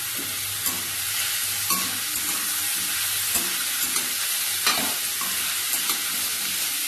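Cauliflower stalk chochhori frying with turmeric and salt, heard as a continuous close sizzle broken by regular scraping and tapping of a spatula stirring the pan, with no voices.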